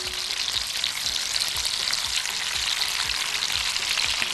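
Chicken pieces frying in a pan, a dense, even sizzle and crackle that holds steady and close throughout.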